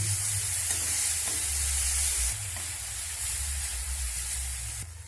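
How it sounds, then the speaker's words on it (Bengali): Ginger-garlic paste and softened tomatoes sizzle in a hot pan as they are stirred, a close, steady frying hiss with a few soft scrapes that eases off toward the end. "এই আদা রসুনের পেস্ট দিয়ে আবারও একটু নাড়াচাড়া করে নেব।"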